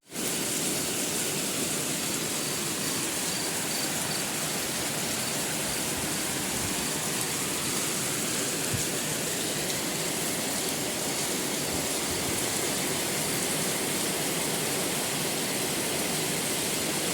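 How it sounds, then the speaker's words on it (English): Steady rain falls in a dense, unbroken hiss, close and loud, holding evenly for the whole stretch with no voices. "let me show you the sound of rain"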